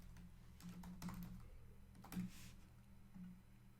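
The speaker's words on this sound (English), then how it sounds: "let me type that down" Quiet, close typing on a computer keyboard, a sparse run of soft key clicks and taps spread over a few seconds against a faint low hum.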